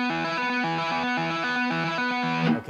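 A distorted electric guitar plays a quick repeating lick with the left-hand notes left ringing into each other, the sustained tones blurring together loudly and close, ending in a brief noisy scrape.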